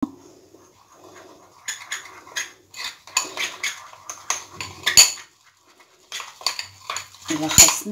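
A spoon scrapes and clinks against a bowl in irregular bursts while a thick face-mask paste made with milk is stirred, close and moderately loud.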